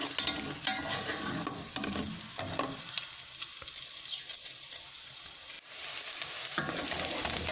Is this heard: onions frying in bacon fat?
yes